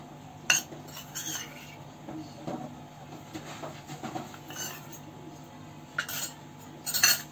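A spoon clinks and scrapes around a bowl while mixing gram flour, turmeric and masala for stuffing chillies, soft irregular metallic taps and rubbing over a faint background hum.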